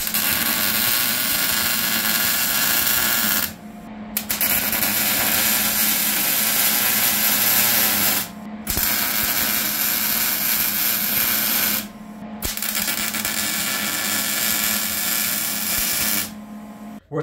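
A steel motor plate is tack welded onto a cyclekart chassis. There are four long, crackling, hissing bursts of welding separated by short silent pauses, close and loud.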